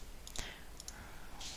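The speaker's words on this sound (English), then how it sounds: "To delete something, press the X key on your keyboard." A few faint, quick clicks from a computer keyboard key press sound softly against a quiet hiss of room noise.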